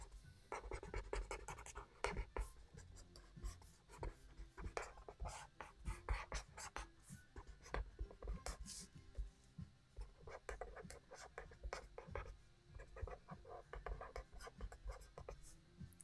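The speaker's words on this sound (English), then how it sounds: "I love sketching these things." A pen sketching roosters on paper: close, quiet, continuous scratching strokes in irregular bursts of short scribbles and longer drags, with no voice over them.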